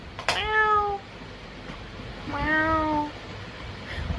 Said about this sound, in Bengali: ম্যাও যদি একবার ডাকো না